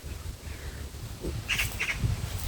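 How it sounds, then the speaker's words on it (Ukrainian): A small bird gives a few quick, faint chirps outdoors on a warm September day near a grape-covered garden gazebo, over a soft breeze and low background rumble. "Там якась пташечка"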